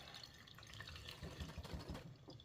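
Pork fat and cooking liquid from a smoked pork butt wrap are poured into a fat separator, a quiet trickling and splashing pour that builds slightly toward the end.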